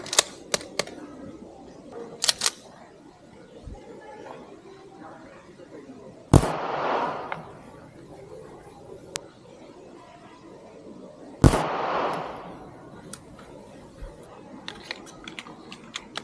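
Two sharp, loud 9mm pistol shots fired at a 5-meter target on a range crack out several seconds apart, each trailing a brief echo, amid small mechanical clicks and quiet background.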